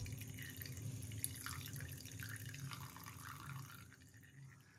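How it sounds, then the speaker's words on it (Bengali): Water drains from freshly pressed chhana (curdled milk cheese) under a heavy weight, making faint, quick, irregular drips over a soft background hiss. "ওটা থেকে জল ঝরতে থাকুক"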